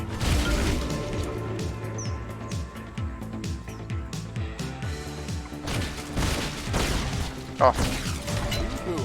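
Blunderbuss shots in the video game God's Trigger, a run of sharp percussive blasts and impacts layered over game music, with a voice briefly exclaiming.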